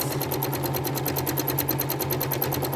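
A sewing machine doing free-motion quilting of loops runs in a fast, steady rhythmic stitching chatter, close and continuous throughout the short stretch.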